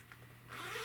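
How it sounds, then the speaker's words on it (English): A zipper on a handmade fabric purse runs open across a divider pocket in one short, close, scratchy pull that swells toward the end, with no voices. "there is a zipper"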